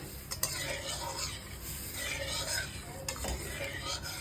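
Dal being stirred in a pot just after a tempering of onion, black cumin and dried red chilli, with soft close scraping strokes over a faint sizzle and a couple of sharp spoon clinks against the pot.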